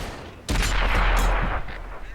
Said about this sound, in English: I'm trading shots here for some reason